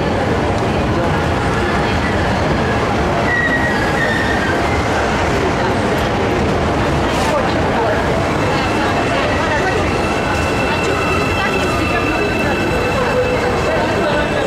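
An HRCS2 Intercity train on the Zaporizhzhia–Kyiv–Dnipropetrovsk service pulls into a station with a loud, close, continuous rumble of wheels and carriages and faint squeals, with voices mixed in.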